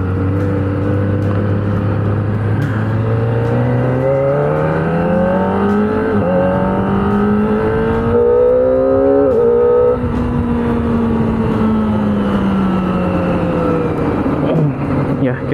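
A Kawasaki ZX25R four-cylinder motorcycle being ridden, its high-pitched engine rising and falling through repeated revs and gear changes, loud and close under wind noise.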